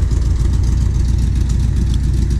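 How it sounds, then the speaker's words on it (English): A warmed-up 1979 Corvette engine idles at about 900 rpm, a steady, loud, low rumble with an even pulsing beat throughout. "But sounds like it's warmed up now. We're idling about 900"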